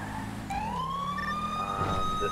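A police car siren wails steadily in the GTA-based cop roleplay game, a loud rising tone that holds and sustains over engine rumble and ambient game noise.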